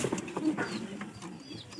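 Pigeons coo softly at close range in a short burst of low, throaty murmurs, with a few faint higher chirps behind.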